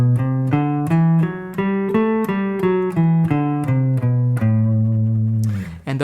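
A guitar plays an A Dorian mode scale one note at a time, each note picked in a steady rhythm and rising then falling. The sound is clear and close, and the last note is held before a brief scrape.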